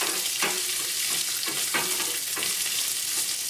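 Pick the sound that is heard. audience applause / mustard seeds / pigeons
mustard seeds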